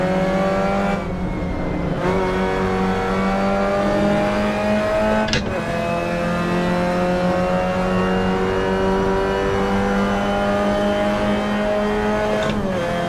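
Race car engine in the game Assetto Corsa at Virginia International Raceway, a steady droning whine with rising pitch sweeps through gear shifts, plus brief sharp clicks around the shifts.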